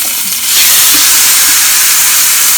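A steak sears in a hot pan on a stovetop, a loud, dense sizzle that swells up after a brief moment and then holds steady and close.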